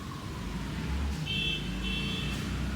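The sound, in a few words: car horn beeping outside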